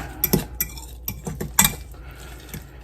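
Batter for a rye bread chaffle, with seeds shaken in, being mixed in a bowl: close, irregular clinks and scrapes of a utensil against the bowl, a few sharper knocks among softer stirring.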